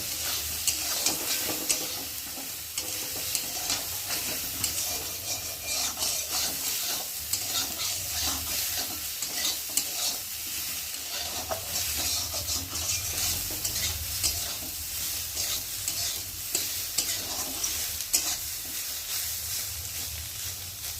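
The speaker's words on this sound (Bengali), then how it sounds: "সয়াবিনটা একটু ভালো করে নেড়ে চেড়ে ভালো করে ভেজে নেব।" Soybean chunks fry in oil in a pan while being stirred, a continuous bright sizzle with steady scraping and clicking of the spatula over about twenty seconds, no voices.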